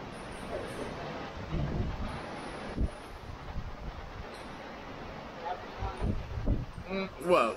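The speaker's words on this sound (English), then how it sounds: "you don't normally don't see it this windy" Strong tornado-weather wind gusts buffet the microphone in a steady low roar that swells and surges in bursts, with people talking intermittently over the noise.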